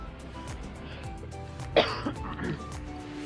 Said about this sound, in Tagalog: Ang ubo ko.